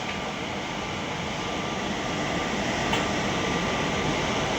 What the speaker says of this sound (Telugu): ఆ ట్రైన్ వెళ్ళడానికి సిగ్నల్ ఇచ్చారు అందుకే ఆ ట్రైన్ వెళ్తుంది